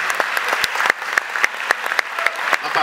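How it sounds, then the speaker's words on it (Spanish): Steady audience applause at a short film festival, moderately loud and continuous, with individual claps standing out near the listener. "Vamos a darle un aplauso pues a todos los creadores"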